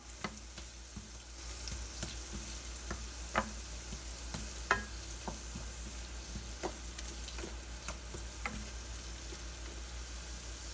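Fresh carrots saute in a pan over medium heat with a steady, fairly quiet sizzle, broken by scattered light clicks and taps from stirring at an irregular pace, with nobody speaking.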